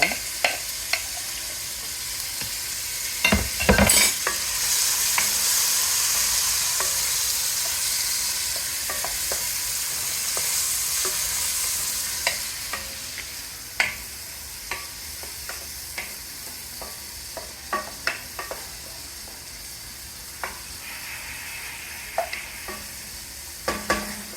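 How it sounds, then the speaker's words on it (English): Meat sears for chili in a hot pan, a steady loud sizzle with occasional sharp clacks and scrapes of a utensil stirring, alone without talk. "We're going to sear these off first for about 1 or 2 minutes or so."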